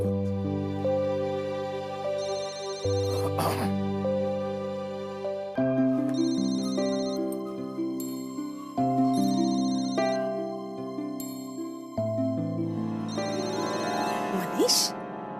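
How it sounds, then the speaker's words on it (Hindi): A mobile phone ringtone plays as a repeating melodic tune, loud and close, phrase after phrase for the whole stretch in a domestic drama scene, with a brief voice at one point. "तुम्हारा फोन बज रहा है,"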